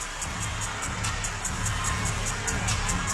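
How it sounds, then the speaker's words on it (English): Basketball arena crowd roaring steadily through an overtime stretch of a professional game, a dense, sustained wash of cheering with no breaks. "Crowd in full throat."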